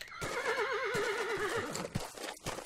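A horse in the forestry simulator game Forestry 2017 lets out a loud, wavering whinny lasting over a second, with soft hoof clip-clops and faint background noise following.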